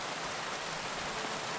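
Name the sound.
rain falling outside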